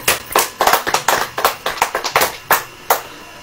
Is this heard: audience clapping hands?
yes